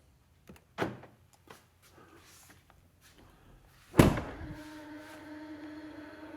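A 2024 Ford F350 door locked by hand goes through its locking sequence: a few light clicks and taps, then a sharp loud clunk followed by a fading mechanical hum.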